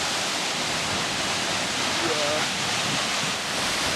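Water rushes steadily over a bridge-dam on the Allier river, a dense, continuous broadband roar with no breaks, loud and close, with faint wind mixed in.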